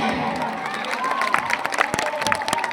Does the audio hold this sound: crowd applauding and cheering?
yes